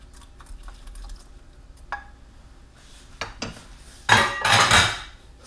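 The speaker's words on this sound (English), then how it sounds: "Now I'm going to add my meatballs." Meatballs dropped into a pot of wedding soup, with scattered light clinks of utensils and dishes building to a louder burst of clattering and splashing near the end.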